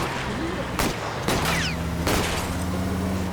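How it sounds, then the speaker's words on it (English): Gunfire from a fleeing shooter in the video game L.A. Noire: several sharp shots spread across a few seconds over a steady background of engine and street noise. "Oh, he's shooting us too."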